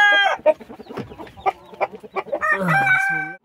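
Sussex and Wyandotte hens cluck up close in a backyard flock, making a busy run of short clucks that swells into drawn-out cackling calls near the end.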